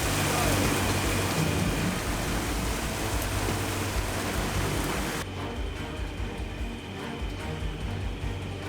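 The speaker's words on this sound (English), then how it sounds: "It is pouring, absolutely pouring." Heavy storm rain pours down on a boat with its hatches closed, a dense, loud, unbroken roar of water that stays constant throughout.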